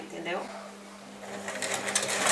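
A sewing machine stitches bias binding onto a bat-sleeve blouse, a steady close mechanical whir that speeds up toward the end, with someone talking over it.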